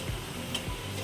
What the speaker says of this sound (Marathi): हे बघा भाज्या घालून घेऊया सर्व आणि व्यवस्थित असं परतून घेऊया